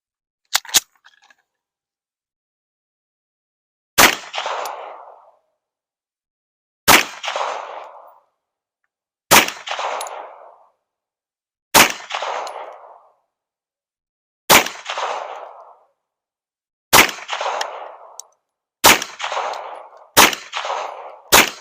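A Canik SFX Rival pistol fitted with a Mecanik MO2 sight fires eight evenly spaced single shots outdoors, each a sharp loud crack followed by a short rolling echo, with silence between shots.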